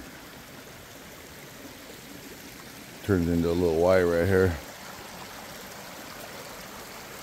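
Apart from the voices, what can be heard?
creek water flowing on a hiking trail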